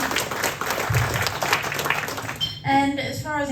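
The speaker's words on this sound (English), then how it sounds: "a big round of applause for the presentation" Audience applause at a local sporting champions event, a dense round of clapping mixed with crowd voices for about two and a half seconds, then fading as a speaker begins talking.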